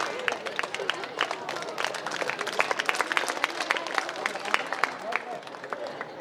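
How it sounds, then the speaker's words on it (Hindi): An alumni audience at a Navodaya Vidyalaya gathering in Mandsaur gives sustained, dense applause to welcome a teacher. Many hands clap steadily with a faint crowd murmur underneath. "सभी एल्यूमिनी से भी मैं निवेदन करूंगा सर का एक बार जोरदार तालियों से स्वागत करें"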